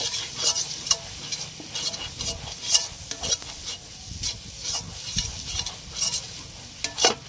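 Turmeric and spices are sautéed in a pan for a desi red chicken curry, a soft sizzle under frequent, irregular spatula scrapes and taps against the pan.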